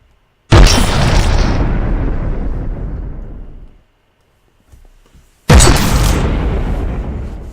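Two heavy booming shots from a high-damage turret in the Minecraft Open Turrets mod, each a loud blast with a long fading rumble, spaced several seconds apart.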